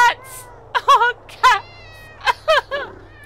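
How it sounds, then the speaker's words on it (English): Several cats meowing in the game Thirty Flights of Loving, a string of short, high, wavering mews coming in quick clusters, close and clear over a faint low hum. "Oh, cats!"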